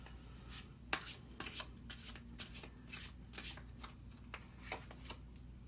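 Tarot cards are shuffled and drawn in a quiet room, making a run of soft, papery riffles and slaps that come in irregular bursts, close and faint, with no talking.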